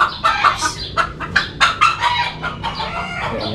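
Chickens clucking in quick, uneven bursts, fairly close, with a rooster-like call mixed in over steady low background noise.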